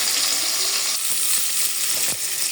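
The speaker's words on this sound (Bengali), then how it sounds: "আমি এবার রুই মাছ একটু ভেজে নিচ্ছি।" Rohu fish fries in a pan with a loud, steady hiss of sizzling oil, close by, with a few faint clinks and bubbling pops.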